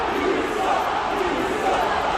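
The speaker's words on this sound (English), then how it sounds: "the crowd started booing him and chanting, "You suck."" A large WWE arena crowd roars in a steady, dense wall of voices, booing and chanting at Ron DeSantis, with no single voice standing out.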